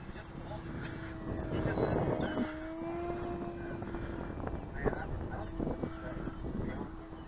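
Parkzone Sukhoi SU-29 radio-controlled model plane flying outdoors, its small electric motor giving a steady droning whine that rises and falls in pitch as it passes, heard at moderate distance over constant background noise.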